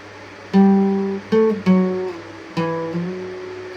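An electric guitar plays an intro: a few sustained, singing notes, each picked and then slid up in pitch, ringing out clearly on their own with no voices.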